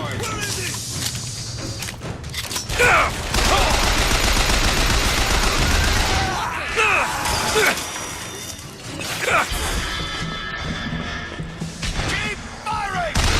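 Bursts of gunfire from the video game Bioshock Infinite: rapid automatic fire, single heavy shots and crashes in clustered volleys, loud and close, with voices in the mix and brief lulls between exchanges.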